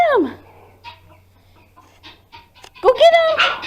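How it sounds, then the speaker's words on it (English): A farm chicken on a farm in Lima, Ohio gives a few scattered soft clucks, then a louder, squawky burst near the end, with faint background noise. "Go get the chicken."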